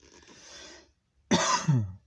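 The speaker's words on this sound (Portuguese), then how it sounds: "Eu estou aqui com tosse agora, estava bem até agora." A person coughs sharply twice in close succession, loud and near, after a faint breathy throat sound and a short silence.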